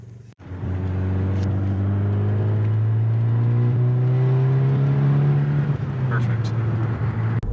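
A 2017 Volkswagen Golf R with a new engine and FR450 kit runs a dyno pull, a steady loud engine drone rising in pitch for several seconds before easing off, close and continuous.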